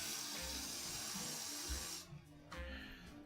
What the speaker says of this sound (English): I'm going to add a bit more water.